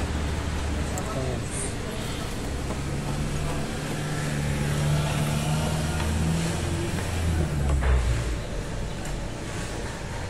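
A car engine idles in place after an engine flush additive has been poured in, giving a steady, close, low rumble that holds even for about ten seconds with a slight swell near the end.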